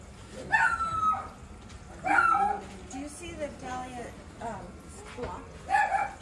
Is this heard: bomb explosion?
no